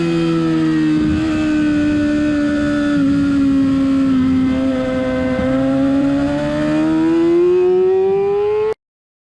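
Scooter engine revving hard in second gear on the Talladega Gran Prix Raceway road course, a loud steady drone with rising pitch under acceleration, close-miked and alone, cutting off abruptly at the end.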